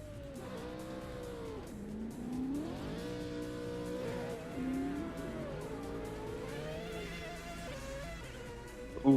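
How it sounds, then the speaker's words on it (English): A Mazda RX-7 drift car at a drift competition screams through a run, its engine pitch rising and falling in long revving sweeps with tire squeal, loud and continuous, with a brief burst at the end. "Ooh, we got an RX-7."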